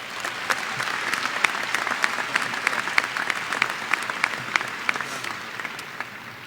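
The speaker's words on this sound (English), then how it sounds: "for that, we deserve a round of applause." Applause at a graduation ceremony, a steady round of clapping from a crowd with dense, even hand claps that hold throughout and fade slightly at the end.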